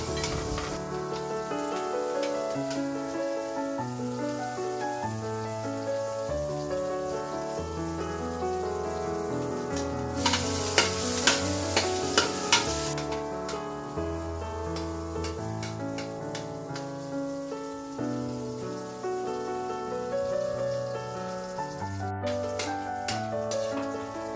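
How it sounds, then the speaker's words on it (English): Fatty pork sautés in a little oil in a pan to render its fat, giving a soft, steady sizzle with sharper spattering bursts midway, under louder background music. "we have to saute the fatty part of the pork so that we can extract more oil"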